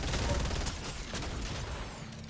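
Bursts of gunfire in a squad-based shooter video game, a rapid, dense volley of shots rumbling close and steady for a couple of seconds with no talk over it.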